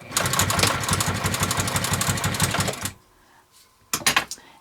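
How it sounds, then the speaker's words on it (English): A sewing machine stitches through leather for a Bible slip-on cover, running in a loud, even mechanical chatter for about three seconds. A brief quiet pause follows, then a short second burst as it stitches back. "One thing I also want to test is I want to see what back stitch looks like on this."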